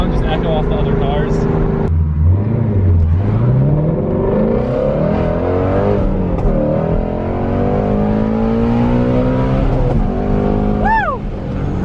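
A Ford Mustang GT350 engine revs hard to high RPM and climbs through the gears with a loud rising howl, echoing among parked cars, while people talk over it.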